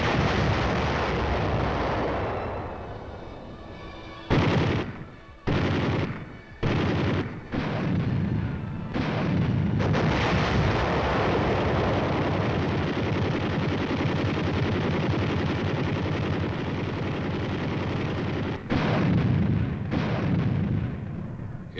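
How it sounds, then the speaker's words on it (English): A massive Korean War artillery barrage ahead of the Han River crossing, with dense, continuous booming fire rolling on for the whole stretch, broken by brief pauses, loud and alone without voices. "It opened with the biggest barrage since the start of the war."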